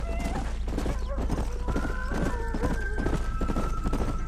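Horses' hooves clip-clopping in the Red Dead Redemption video game, a busy, continuous stream of close hoofbeats over a low rumble, with a faint whinny and game voices in the background.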